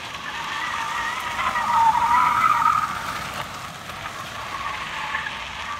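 A Hyundai Sonata's front-wheel-drive engine drones steadily while tires squeal in a rising screech that peaks midway, then fades back into the engine noise.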